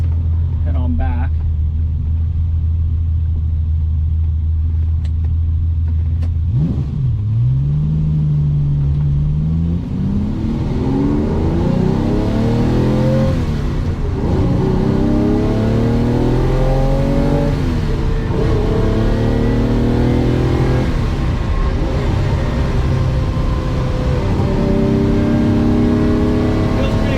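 A Ferrari 365 GT 2+2, a big heavy car, accelerates on the road with a loud rising engine note swept through several gear changes, steady road rumble beneath and someone talking over it at times.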